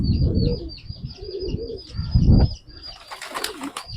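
A Rampuri pigeon cooing in repeated soft low calls, with thin chirps above, a burst of wing flapping, and some handling rustle nearby.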